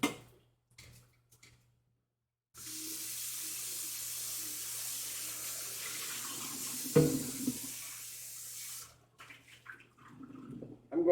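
A kitchen faucet runs steadily for several seconds while a pan is rinsed out, a hissing stream broken by a clunk of the pan before the tap shuts off.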